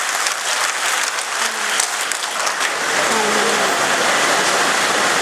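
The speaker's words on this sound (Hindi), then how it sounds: "मैं चाहता हूं उनके लिए जोरदार तालियों से आप लोग स्वागत करें उनका" A large crowd at a minority community mahapanchayat gives loud, sustained applause for Om Prakash Rajbhar, a dense wash of clapping that swells and holds steady.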